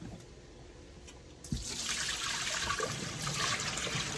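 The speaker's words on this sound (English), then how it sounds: "mixture with white vinegar off and just rinse the chicken." Water running in a kitchen sink while a vinegar mixture is poured off raw chicken and the chicken is rinsed, a faint trickle that swells into a steady, closer stream of running water.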